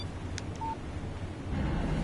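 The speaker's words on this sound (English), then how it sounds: "Text message from Barry." A phone text message notification in the video game Alan Wake gives a couple of quick, bright electronic beeps over a low, steady ambient background hum.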